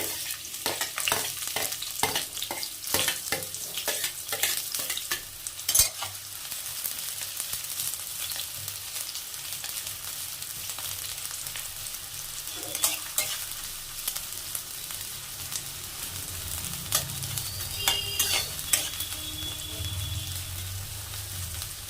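Chopped onion sizzles in oil for homemade chowmein, a continuous bright frying hiss with a burst of quick spatula stirring clatter early on, then steadier crackle and occasional utensil taps, no voices.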